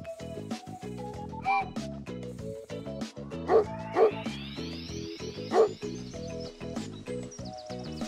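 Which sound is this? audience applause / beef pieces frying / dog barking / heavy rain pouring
dog barking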